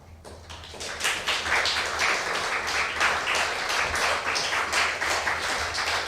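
Audience applause after a poetry reading at a livestreamed event, a room full of people clapping steadily and fairly close, rising quickly and sustaining for several seconds.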